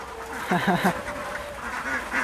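Ducks on a Thai farm give a short burst of quacking, fairly close, over low outdoor background noise.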